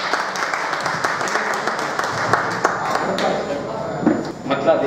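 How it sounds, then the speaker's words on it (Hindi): Audience at a mushaira poetry gathering clapping in a steady patter of applause, with voices talking over it and a few louder taps near the end. "तालियों से नवाज है।"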